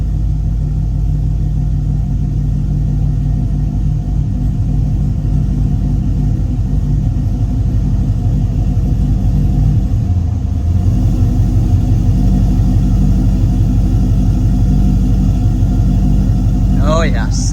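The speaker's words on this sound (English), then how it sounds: "It rumbles so hard it shakes the car." A C6 Corvette's engine idles with a deep, heavy rumble, loud and steady throughout, with a slight dip and swell midway and a brief chirp near the end.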